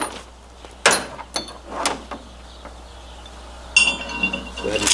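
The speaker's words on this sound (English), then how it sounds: "Go ahead and slide these shim plates up into the position here." Metal shim plates and bolts handled during a truck hitch and truss install: scattered clinks and clanks of metal on metal, a couple of sharper knocks and a longer scraping rattle near the end, close up in a quiet space.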